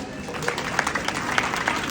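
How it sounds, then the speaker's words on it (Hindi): Applause from a crowd honoring mothers at a Mother's Day celebration in a Hindu temple in Surrey, a steady wash of clapping with a few sharper claps standing out. "तो एक बार फिर माताओं के लिए जोरदार तालियां"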